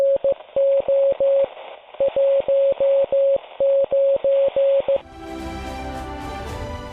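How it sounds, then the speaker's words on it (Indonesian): A Morse code radiogram is keyed over radio as a steady single-pitch tone broken into rhythmic dots and dashes for about five seconds, loud and clear, then giving way to a burst of broadband radio noise. "Radiogram berupa sandi Morse akan dikirim melalui radio."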